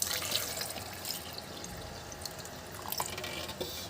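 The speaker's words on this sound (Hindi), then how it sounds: "और अब हम इसमें थोड़ा डालेंगे सिर्फ पानी।" Water is poured into freshly squeezed lemon juice for a watermelon drink, a soft steady trickle with faint splashes and drips, quiet and close, with no talk.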